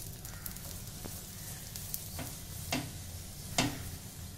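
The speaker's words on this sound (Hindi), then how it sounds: "दोनों तरफ से हम इसको घी लगाकर अच्छे से सेक लेंगे।" Paratha stuffed with bhujia sev and paneer crisps in ghee on a hot pan, giving a faint, steady low sizzle broken by a few soft ticks and light scraping sounds, with no talking.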